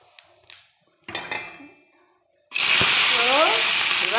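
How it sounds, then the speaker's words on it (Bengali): Black cumin seeds drop into hot oil as a tempering for fried spring onions and potatoes, starting a loud, steady sizzle. Before it come a few faint clinks of a pan and utensils. "তেল গরম হয়ে গেছে, এবার আমি একটু কালো জিরে দিয়ে দেবো ফোড়ন।"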